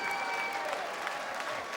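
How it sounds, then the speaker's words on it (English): A crowd applauds steadily after the 2009 darts world championship final between Ted Hankey and Tony O'Shea as the winner lifts the trophy, a dense wash of clapping with a few faint voices and calls mixed in. "getting the deserved applaud"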